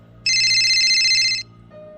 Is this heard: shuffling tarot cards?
no